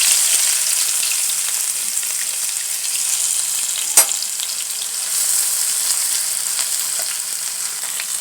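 Garlic going into hot oil with spluttering mustard seeds for a dal methi tempering: a loud, steady close sizzle with one sharp crackle midway and scattered small pops.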